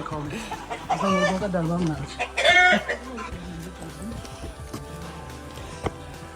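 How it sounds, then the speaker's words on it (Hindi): Large roosters cluck and call loudly nearby, with someone speaking over the birds. "मुर्गे, कितने बड़े मुर्गे, पहली बार देख रही हूँ इतने बड़े मुर्गे।"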